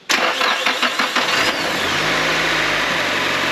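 A Nissan SR20 engine fitted with freshly installed HKS cams cranks with a few rapid starter pulses, catches with a loud revving burst, then settles into a steady close idle.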